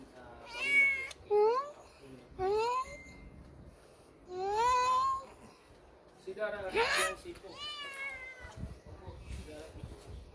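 Several cats meowing repeatedly at close range, rising and falling cries overlapping one another, with some background chatter and noise.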